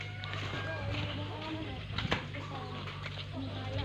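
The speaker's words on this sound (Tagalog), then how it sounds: "Yan po yung mga kalapati." Pigeons flap their wings on a small farm with ducks, chickens and a pig nearby, giving a brief flutter near the middle over steady farmyard ambience with a low hum and voices in the background.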